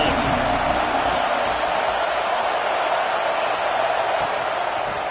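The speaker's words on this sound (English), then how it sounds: "This crowd ready to make its presence known." Steady wash of football stadium crowd noise during a KML vs Oklahoma game, a dense, even roar with no distinct cheers or breaks.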